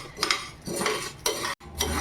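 A metal spatula scrapes and stirs across a hot griddle on low flame in several short, rhythmic strokes, roasting fasting-food ingredients, with a brief pause near the end.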